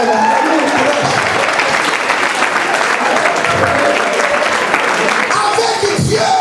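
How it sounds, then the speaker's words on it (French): A church congregation applauding, steady dense clapping from a large crowd that stays loud for the whole stretch, with a voice faintly audible near the end. "Acclamez mon courage quand même."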